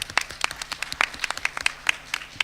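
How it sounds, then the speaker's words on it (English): Audience applause after a presenter is introduced at a game pitch event, a run of scattered, fairly thin claps of moderate loudness with no voices over it. "Please give a round of applause to Sam."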